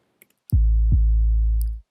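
Two deep 808 bass drum hits, the second overlapping the first's long booming tail, preceded by faint clicks; isolated and loud.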